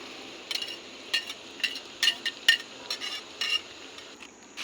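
Garlic and onion fry in a pan as chili is added, a low sizzle under a run of sharp metallic scrapes and clinks from a utensil stirring against the pan.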